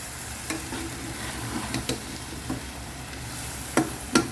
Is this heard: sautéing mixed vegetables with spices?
yes